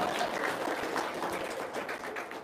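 A gathered audience claps together in a fairly faint, even stretch of applause with scattered sharp hand strikes, heard without talking.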